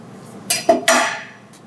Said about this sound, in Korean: 껍질을 제거한 단호박을 그냥 한 입 크기로 대강 썰어주세요